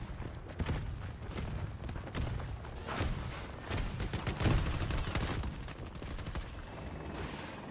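Dense gunfire crackles across a video game battlefield under sniper fire, with rapid overlapping shots and thumping impacts, loud and continuous.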